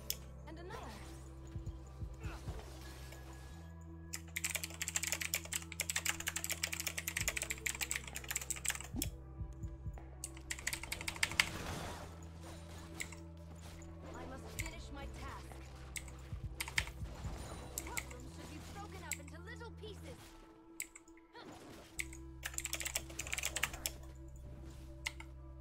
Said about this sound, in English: he's just typing, and it's actually bothering me, like how he's typing